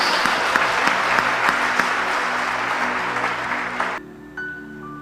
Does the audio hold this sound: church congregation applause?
yes